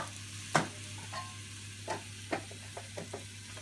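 Turmeric being stirred into a roasted vegetable curry sizzling in a pan over a low flame, a soft steady sizzle broken by several spoon scrapes and knocks, close and quiet, without talk.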